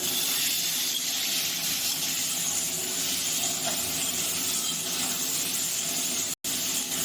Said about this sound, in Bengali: এগুলো আমি খুব সুন্দর করে এখন ফ্রাই করে নেবো